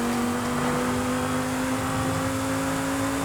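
A car engine in the racing game Forza Horizon 5 drones at a steady high rev, a constant loud hum with no break.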